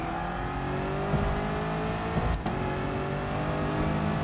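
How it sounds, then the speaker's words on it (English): A massive V8 car engine in a PS4 racing game roars in a loud, sustained rev with slowly rising pitch, close and continuous, with a brief dip midway. "It's got this massive V8 engine."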